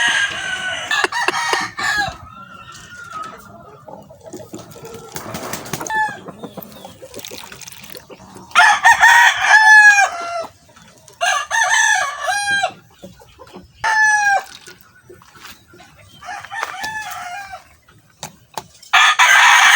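Backyard chickens cluck steadily while roosters crow loudly several times in succession, close and clear with no talking.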